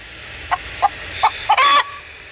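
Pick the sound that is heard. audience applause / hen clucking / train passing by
hen clucking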